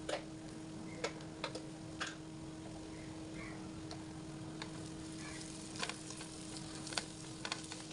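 Chili powder is stirred into chicken curry in a pan over a constant low sizzle of frying, with scattered light scraping clicks from a spoon against the pan throughout.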